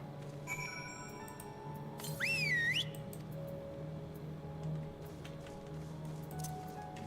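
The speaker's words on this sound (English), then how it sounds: "That whistle produces a tone that all Amaro has been trained since birth to react to." A whistle blown to call an Amaro in the Final Fantasy XIV game: a single loud warbling, wavering whistle tone of about a second, over a quiet game ambience with faint chirps.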